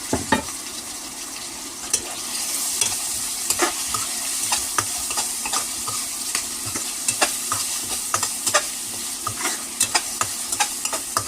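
Ginger, garlic, green chillies and chopped tomato fry in a pan for village-style beef pasta, giving a constant close sizzle punctuated by frequent sharp stirring scrapes and clicks, with nobody speaking.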